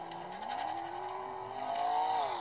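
Car engine droning steadily with a rising and falling pitch, like a vehicle accelerating and revving, slightly staticky and moderately loud with no voices over it.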